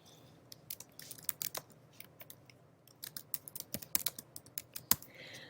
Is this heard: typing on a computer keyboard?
yes